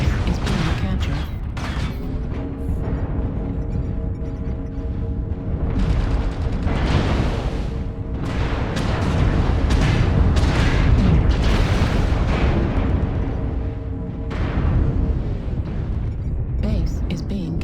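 Missile explosions in the mech combat game MechWarrior Online, heavy booming blasts and rumbling impacts layered with mechanical noise, loud and continuous, while a synthetic warning voice speaks over the battle.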